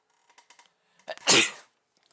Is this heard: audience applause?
no